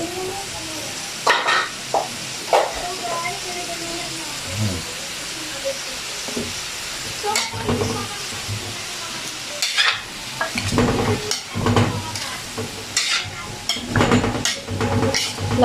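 Pancit frying in a pan at home, with repeated stirring scrapes and clatter over a steady sizzle and hiss, the strokes coming in irregular bursts and growing busier toward the end.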